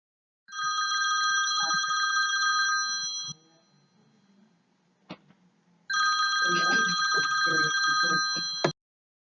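A telephone rings for an incoming call in two long, loud electronic bursts, separated by a short quiet gap with a faint click, and a voice speaks under the second burst.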